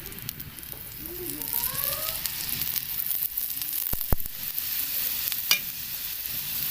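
A besan paratha (gram flour flatbread) frying in oil on a pan gives a steady, close sizzle throughout, with a couple of sharp clicks or taps near the end and no talking.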